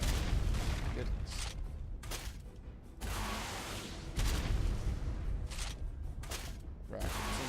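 Rocket launcher fire in the video game Primitive Gear Lava Golem: dense, loud bursts of booming blasts with short gaps between volleys, filling the whole clip with no talking.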